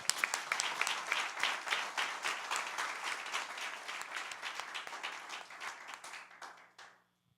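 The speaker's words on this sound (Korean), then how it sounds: "진짜 잘 믿으면 박수 한번 쳐봐요" A church congregation claps and applauds during a Sunday sermon, a lively burst of many hands that rises quickly, holds steady, then thins out and stops near the end.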